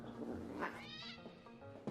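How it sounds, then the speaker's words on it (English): In a film scene, a cat gives a drawn-out, wailing yowl that rises and falls over about two seconds against a steady background hum. No one speaks. "Did you just throw my cat out the window?"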